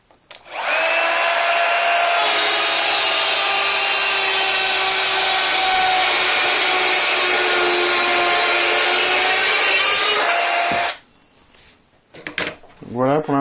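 A Bosch PKS 10.8 Li cordless circular saw makes a shallow cut through wood. A loud, close, steady whine lasts about ten seconds, then stops, followed by a few faint handling noises.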